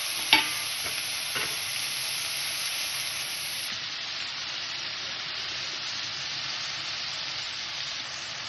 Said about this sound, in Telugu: అది ఇందులో వేసుకొని కలుపుకోవాలి